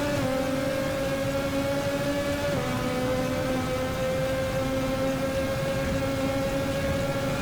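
A classic Formula race car engine in the Automobilista sim at Jacarepagua drones at a steady, sustained pitch, shifting slightly around mid-clip as the car brakes and exits a turn, loud and continuous with no talk.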